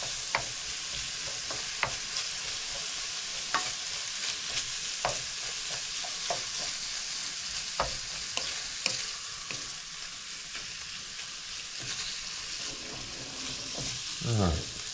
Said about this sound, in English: Make sure it's frying and not steaming.